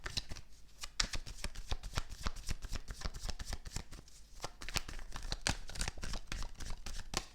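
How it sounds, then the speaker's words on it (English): Tarot cards are handled and laid down on a table in a busy run of soft slaps, flicks and papery rustles, close by with no talking. "now I'm gonna lay some cards down on the table."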